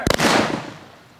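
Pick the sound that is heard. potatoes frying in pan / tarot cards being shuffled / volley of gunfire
volley of gunfire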